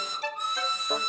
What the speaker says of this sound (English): Glyn has a whistle that sounds like this